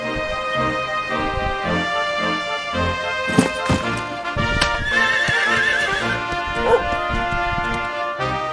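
A horse in the video game Dragon Quest XI whinnies and neighs over clip-clopping hooves, with steady game music playing underneath.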